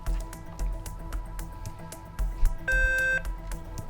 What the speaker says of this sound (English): We just heard a buzzer right there that signifies the end of the buzz-in round.